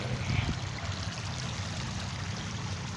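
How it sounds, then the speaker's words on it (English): A woodland stream flows steadily, a continuous close rushing and trickling of water with no voices. "Oh, and the stream goes all the way back there, too."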